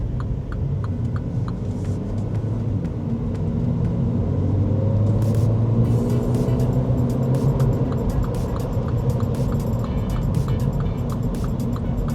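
Steady road rumble and engine drone fill the cabin of a two-litre MINI Cooper S cruising along the Zhytomyr highway, continuous and even with faint ticking sounds on top.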